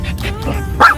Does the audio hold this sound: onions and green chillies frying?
no